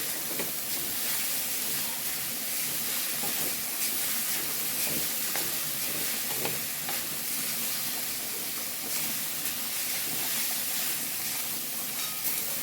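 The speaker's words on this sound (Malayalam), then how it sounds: "മീൻ തിളയ്ക്കുന്ന ഒച്ച കേട്ടോ അപ്പുറത്തുനിന്ന് കേൾക്കുന്നത്" A pot of fish curry bubbles and hisses steadily, a constant simmering sizzle with soft popping, no voices.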